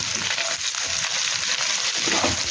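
Okra fries in a pan with a pinch of salt after tempering, giving a steady, close hiss and sizzle with light stirring scrapes throughout.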